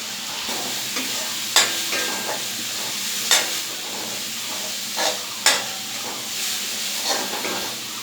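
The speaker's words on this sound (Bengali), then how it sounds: "তো এখন মশলাটা খুব ভালো করে কষিয়ে নিতে হবে" Masala paste of ginger, chili, turmeric and coriander with a little water sizzling in a pan for egg vuna, a steady frying hiss broken by periodic stirring scrapes, close and loud with no talking.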